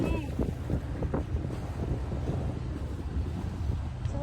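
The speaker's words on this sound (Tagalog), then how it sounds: "sasakay na naman kami ng pambot" A bumboat carries passengers across open water toward Pulau Ubin, its steady engine drone mixed with wind buffeting and water wash, continuous and fairly close, with a voice speaking briefly over it.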